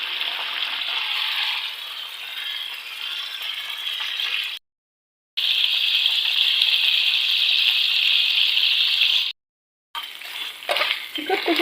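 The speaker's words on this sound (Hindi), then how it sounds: "चिकन को जो 4 से 5 मिनट लगे भूनने में, हमने इसे अच्छे से भून लिया।" Small chicken pieces sizzling steadily in oil in a pan for a red chilli chicken dish, a continuous hissing crackle broken by two short silent gaps, with faint stirring clatter near the end.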